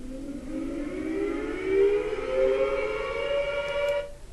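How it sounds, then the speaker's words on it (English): An air raid siren sound effect wails alone, rising in pitch and holding a loud sustained tone for several seconds before cutting off abruptly. "here's an air raid siren"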